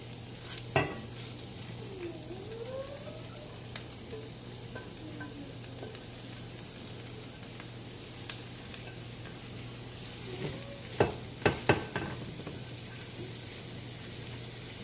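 Cabbage fries in a pot with thyme and oil, a steady low sizzle running throughout, broken by a few sharp clinks and stirring knocks near the start and a cluster toward the end.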